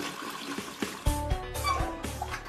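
A Champion 4 toilet flushing nearby: a rushing gurgle of water draining down through the trapway, with steady swirling flow and a few sharper gulps.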